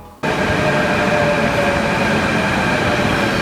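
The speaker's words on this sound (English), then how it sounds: "we're trying out the Delhi Metro" A Delhi Metro train in motion: a loud, steady rumbling roar with faint tonal whine that begins abruptly and continues without a break, heard from inside the carriage with no talking.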